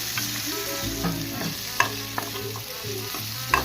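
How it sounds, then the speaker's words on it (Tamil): Pieces of dried fish fry in a pan over a low flame while being stirred, a dense close sizzle punctuated by occasional sharp clinks and scrapes of the spoon against the pan, with no talking. "ஃப்ளேமை கொஞ்சம் சிம்மில் வச்சு கருவாடு வேகிற அளவு பொறுமையாக நம்ம கிண்டி விட்டுட்டே இருக்கணும்"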